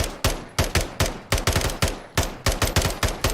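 An FSS Hurricane submachine gun in Modern Warfare 3 fires short, controlled bursts: sharp, loud cracking shots in quick clusters of two to four, separated by brief pauses, each with a short decaying tail.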